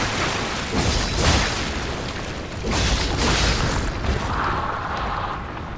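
An enemy explodes in the action game Lies of P, producing a couple of heavy rumbling booms a second or so apart, loud and close, with a softer humming tail afterward.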